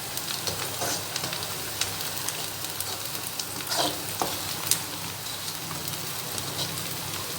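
Chopped onions for a mutton tikka karahi fry to golden brown in hot oil, giving a dense, continuous sizzle up close with occasional soft stirring scrapes and no talking.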